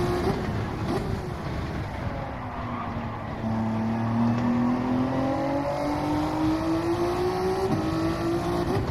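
Race cars lapping Spa in Gran Turismo 7, a continuous loud engine whine climbing and dipping in pitch as they accelerate and shift, with another car's engine layered close alongside.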